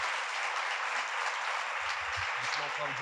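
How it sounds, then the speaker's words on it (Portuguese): Steady, full applause from a church youth gathering for a participant named Tassi, continuous clapping throughout with a voice speaking underneath toward the end. "Queria que você desse uma salva de palmas aí para Tassi"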